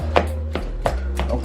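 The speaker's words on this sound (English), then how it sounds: "But you can use anything to mash it up." Salmon cake mixture gets mashed with a big spoon in a bowl, giving four sharp, evenly spaced scraping knocks close up with no talking.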